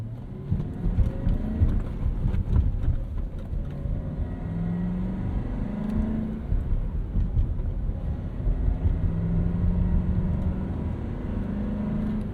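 Euro-spec 1996 BMW 735i with a 3.5-liter V8 and five-speed manual, engine running with a steady low rumble and subtle rising and falling tones, moderately loud and close, no voices.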